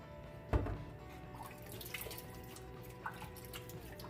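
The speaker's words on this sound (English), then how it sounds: "Let's throw a little bit of water on our face here." Water splashes from hands onto a face before a wet shave at a bathroom sink, a soft close splash followed by faint drips and trickles, quiet overall.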